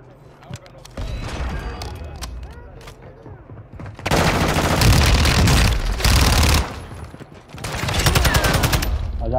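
Call of Duty: Modern Warfare II gunfire rattles in loud, close automatic bursts, with a short stretch of shots, then two long sustained volleys separated by a brief lull, under occasional talking.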